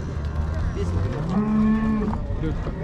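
A cow moos at a livestock market in Merki, a single long, loud, low moo near at hand over a background of crowd noise.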